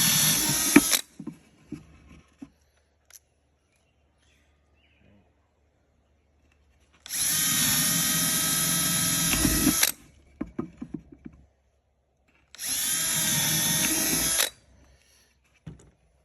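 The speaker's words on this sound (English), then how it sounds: "I'm going to drill this over top of the lid, or over top of the open part of the box." A power drill bores through the lid of a wooden treasure box in three bursts, each steady high-pitched whir lasting a few seconds, close and loud, separated by quiet pauses with small handling clicks.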